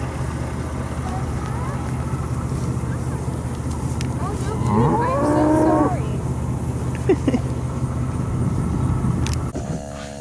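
Several cattle bellow and moo, loud and fairly close, hungry for their morning feed on a farm property, with a low engine rumble running underneath the calls.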